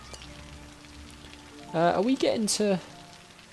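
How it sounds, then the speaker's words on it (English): Rain in the city-building game Cities: Skylines, a faint, steady hiss of falling rain running throughout, briefly overlaid by someone speaking. "It's just raining constantly now."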